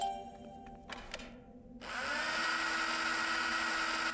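Power drill in the video game Beyond the Edge of Owlsgard, used in a mine after being attached to cables: a short whir and clatter, then a loud, steady mechanical whine that starts abruptly and keeps running.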